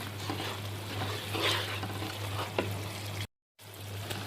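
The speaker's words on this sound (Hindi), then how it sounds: "अब ज़रा मैं इनको ज़रा हल्का सा भून लूँगा।" Spices, ginger garlic paste and green chillies sizzle in oil in a pan while being stirred, a steady close frying hiss with scraping strokes and a brief dropout near the end.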